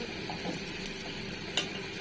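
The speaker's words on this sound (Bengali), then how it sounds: "প্রথমে পেঁয়াজটা লাল করে ভেজে নিলাম" Onions frying in a pan until reddish-brown, a continuous close sizzle with light stirring scrapes and one brief sharp tap near the end.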